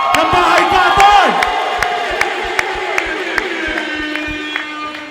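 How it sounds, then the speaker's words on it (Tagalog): A rap battle crowd roars, cheering and shouting with loud sustained voices and whoops that sweep down in pitch, over a backdrop of sharp, regular clapping that continues as the yelling settles into a steady hum. "sa ngalan ni Abaddon, amin pong inihingi ang malakas na sigawan at palakpakan ng Bahay Katol!"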